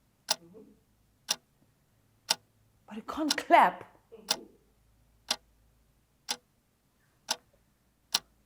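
A clock ticks at a steady one-per-second pace, crisp and isolated, with a brief spoken question in the middle.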